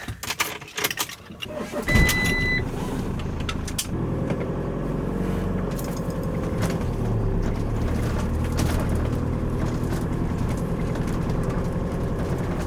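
A camper van engine cranks and catches on a parked van in Sardinia, settling into a steady low idle that rumbles on unbroken, with faint clicks and rustles before the start.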